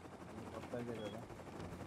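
Automatic gunfire in the survival game Rust, a rapid burst of shots crackling through a noisy, busy mix with voices talking over it.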